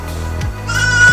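A goat from a herd being microchipped lets out a single short bleat, close and clear, with a quavering tone near the end.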